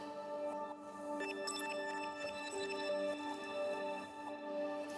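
High, sparkly glitchy synth layers processed through a Delay plugin, with thin bright tones repeating and smearing into echoes over a sustained pitched bed, steady and close throughout.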